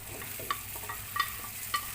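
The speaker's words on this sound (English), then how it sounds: "We can add our vegetables. The butternut squash and the string beans." Butternut squash and string beans tipped into a pot of Filipino mung bean and pork stew, a soft simmering sizzle with a few light clinks and stirring knocks, fairly quiet and close.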